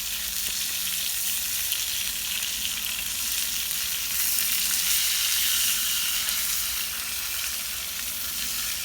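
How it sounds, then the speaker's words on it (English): Steady, loud sizzling and crackling of food frying in a pan over a campfire in winter woodland, a continuous close hiss with no talking. "You don't get sizzle like that"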